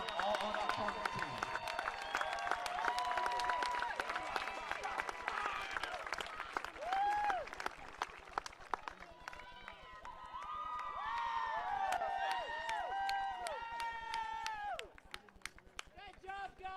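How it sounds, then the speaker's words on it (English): Crowd clapping and cheering for student athletes at a college baseball conference championship, mixed with shouts and nearby voices talking, while sharp whistle-like tones cut through. "Let's have another round of applause for these fine student athletes, the 2021 All-ODAC tournament team."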